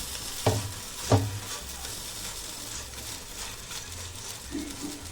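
Two ladlefuls of batter poured into a pan with a little oil over a low gas flame, two soft thuds early on, then a quiet, steady sizzle with no talk.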